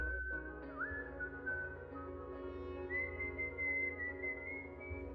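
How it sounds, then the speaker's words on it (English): A slow, wavering, off-key whistled tune drifts along faintly outside at night in the countryside, over a low, steady background hum, with no other sounds. "I was almost asleep when I heard whistling outside"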